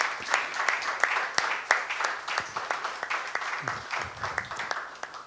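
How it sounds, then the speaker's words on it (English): Audience applause at a festival event, a dense patter of claps rising and falling close by for several seconds, with a voice speaking over it. "So a round of applause, please,"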